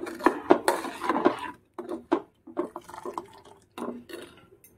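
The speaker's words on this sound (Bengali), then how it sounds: "এই অবস্থায় আমি এর মধ্যে আমুল দুধটা অ্যাড করে নেব।" Amul milk poured into a pan of reduced milk over a low gas flame, with clinks of a utensil against the metal pan and short splashy bursts separated by brief silences.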